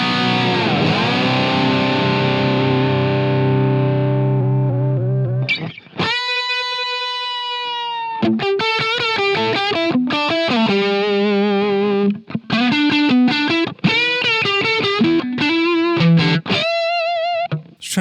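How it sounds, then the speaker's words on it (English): An electric guitar runs through channel 2 of a Soldano SP77 preamp into 4x12 cabinets, opening with a ringing distorted chord, then playing fast, overdriven lead runs and bends, loud and close with brief pauses. "let's go over to channel 2 and see how this sounds through the 4x12s."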